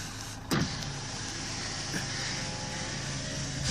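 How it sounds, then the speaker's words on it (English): Electric power window motor whirring steadily as a car window is raised, a continuous mid-level hum with a brief thump near the start, heard from inside the vehicle. "I'm putting up my window."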